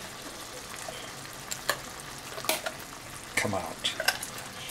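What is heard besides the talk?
black beans frying and being stirred in a pan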